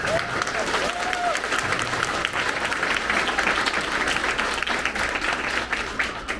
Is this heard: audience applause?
yes